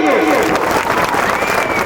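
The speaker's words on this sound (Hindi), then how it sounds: "एक बार जोरदार तालियां होना चाहिए" Applause and cheering erupt from the crowd at an annual function, a loud, brief burst of dense clapping that stays full throughout, with voices mixed in.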